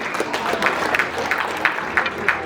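Applause from guests at a Rwandan traditional wedding ceremony (gusaba), a steady patter of clapping with a few louder claps standing out, heard over a lively crowd background.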